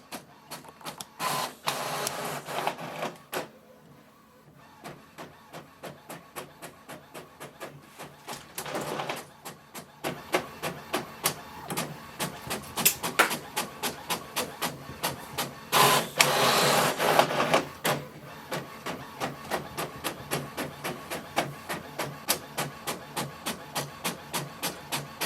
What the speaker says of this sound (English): hear how the printer actually sounds when it's printing